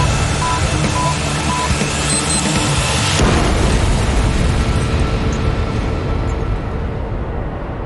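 A bomb explosion in Beirut: a sustained, loud, dense roar of blast and rumbling debris fills the whole stretch, with a few faint beeping tones early on before a sharp surge midway.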